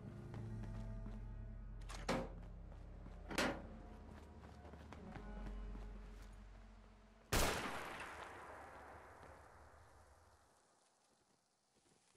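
A monstrous weapon fired in Fallout 4: a few loud, sharp blasts spaced apart, the last one biggest with a long decaying tail, over a low rumbling game ambience.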